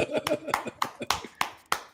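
A few people clapping on a live NFL picks betting show, sparse sharp claps in a loose rhythm, roughly eight distinct hits, close and fairly quiet, with a voice talking underneath.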